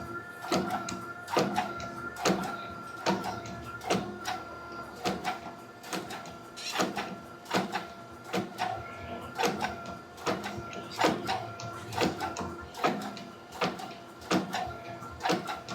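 A press drop-forges a hot rail spike into a meat turner, delivering a steady run of sharp, evenly spaced metallic blows roughly every second, close and fairly loud.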